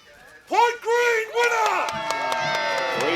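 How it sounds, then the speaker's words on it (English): A crowd cheers for jousting knights at Pendennis Castle, breaking into loud excited shouts and whoops in surges and then fading into scattered clapping and chatter. "Do give them a cheer."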